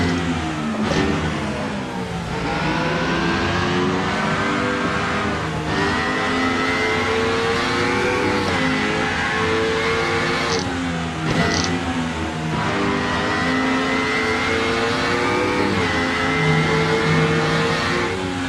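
A Mercedes touring car in the Rennsport racing game screams toward 12,000 rpm, loud and continuous, the engine note rising through each gear and dropping sharply at several shifts.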